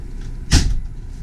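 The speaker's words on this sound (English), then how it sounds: "I'm going to turn the, or shut the door now." The entry door of a Sunseeker motorhome shuts with a single sharp thud, close and loud, over a steady low background hum.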